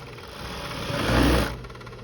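Serger sewing machine running fabric through, giving a close, steady motor whir that swells louder for a moment in the middle, then eases back.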